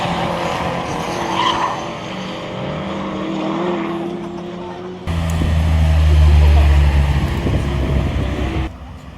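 Classic rally car doing donuts at a rally day, tires squealing and skidding under engine roar, a louder surge arriving midway before cutting off; a commentator talks over the noise.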